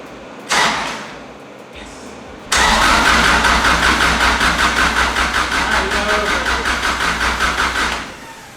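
A home-built race car's 500+ hp EJ engine is cranked over to build oil pressure. A brief starter burst comes first, then a loud, steady rhythmic cranking chug lasting several seconds, close up, with no firing.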